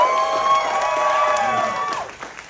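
A comedy club crowd cheers and whoops loudly, with clapping beneath, shouts rising and sustaining before tapering off near the end.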